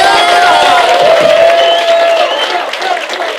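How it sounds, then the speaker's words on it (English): A comedy club audience breaks into a loud burst of applause with some cheering, close and full at first, then thinning out over a few seconds. "Everybody give Pedro a big round of applause"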